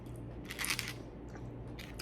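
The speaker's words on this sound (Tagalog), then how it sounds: "parang crunchy yung luya" Close, quiet crunchy bites and chewing on ginger eaten with steamed pompano, a few crisp bursts separated by softer mouth sounds.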